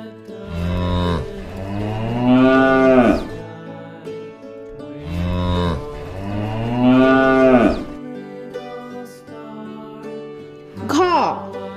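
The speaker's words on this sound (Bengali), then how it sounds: "গয়ে গরু বাছুর দাঁড়িয়ে আছে" A cow and a calf mooing, several long, loud, drawn-out lows close by with short gaps between them, ending on a higher, shorter call.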